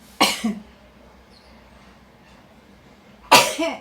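Two sharp, loud sneezes from a person, one right at the start and another near the end, separated by quiet room tone.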